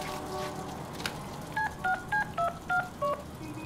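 A phone ringing in the Deadpool video game: a run of six short, evenly spaced electronic dial-tone beeps, clear and close, following a brief murmur of game sound.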